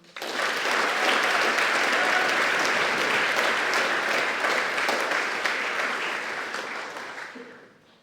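A sustained round of audience applause greets academic honor inductees at a school's morning meeting, dense clapping holding loud and steady before tapering off at the end.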